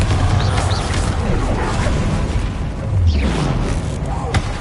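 The Confringo blasting spell goes off in Hogwarts Legacy, a series of low booms and crashes over a busy combat din, with a voice speaking over the action.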